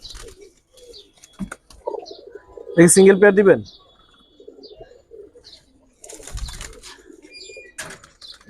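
Prince Kamaga high flyer pigeons coo in a short, loud burst and flap their wings with rustling flutters, heard close up between stretches of people talking.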